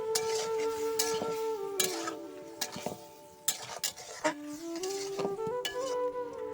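Shing and baim fish stirred into a fried spice paste in a pan, with sizzling and scraping stirring strokes up close over a steady tonal background.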